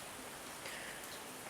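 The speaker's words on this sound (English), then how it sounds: "Ooh, rain." Faint steady rain, a soft even hiss of drops falling outdoors with no other sounds and no talk.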